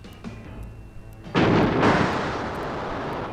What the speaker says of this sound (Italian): Mi era apparso strano quel tuono